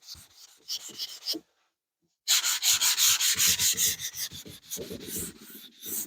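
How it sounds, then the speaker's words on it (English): A sealer-coated surface is hand scuff-sanded during touch-up repair prep. Short rubbing strokes come first, then a pause, then a dense run of quick, rhythmic back-and-forth sanding strokes, close and clear. "I'll just give this a quick scuff"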